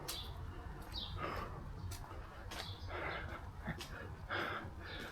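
Pigeons at Skopje Zoo coo and chirp in short, repeated bursts over a steady wash of outdoor background noise, at moderate distance.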